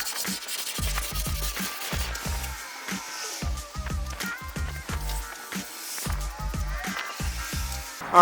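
A concrete skate spot being ground and sanded smooth to remove granular texture, giving a steady rough rubbing scrape with repeated strokes and low thumps throughout, close and fairly loud with no talking.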